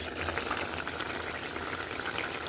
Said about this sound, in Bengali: ইলিশ মাছ এবং বেগুনের মধ্যে বলক চলে আসছে